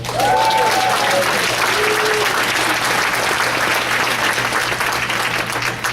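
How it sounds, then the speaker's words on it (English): An audience at a training seminar breaks into sustained, dense applause for the participants. It holds steady and loud throughout, with a few voices briefly audible early on. "Give my participants a round of applause."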